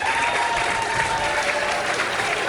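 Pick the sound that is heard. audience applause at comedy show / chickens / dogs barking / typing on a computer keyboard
audience applause at comedy show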